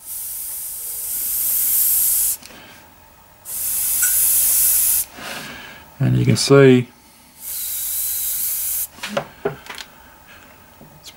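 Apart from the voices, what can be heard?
Iwata HP-M1 airbrush spraying at raised air pressure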